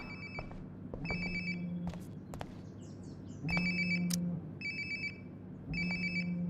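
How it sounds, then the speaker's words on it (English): Mobile phone ringtone in the video game Life is Strange: Before the Storm Remastered, repeating in short bursts over a low background hum, moderately near with no talk. "Sounds like my phone is definitely nearby."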